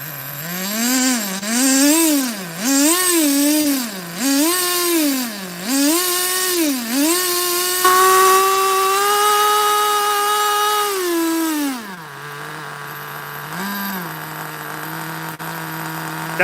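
A Traxxas T-Maxx nitro RC truck engine is revved repeatedly in sharp, buzzing bursts, then held at a high screaming pitch before dropping to a rough idle with a short blip, loud and close.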